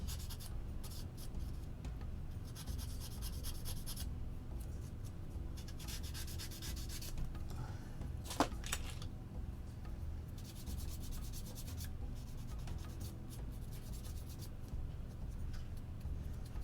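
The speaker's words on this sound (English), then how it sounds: "Now to sand. So just quickly, this doesn't take too much effort, just demolish the tabs from the flash" Fine sandpaper rubs away sprue tab remnants from small plastic parts of a BMP-2 model kit. The scratchy strokes are steady and close, broken now and then by a brief pause and a light click.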